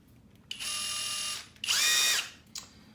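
A Skil PWRCore 12V brushless cordless impact driver whirs on its low setting in short bursts, three runs of about a second each with brief pauses, close and fairly loud.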